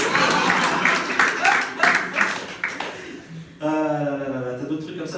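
An audience at a live French comedy show claps in a burst of applause, fairly close and loud, fading after a few seconds as a voice begins speaking.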